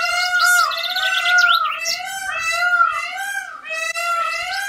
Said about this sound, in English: It's some kind of bird.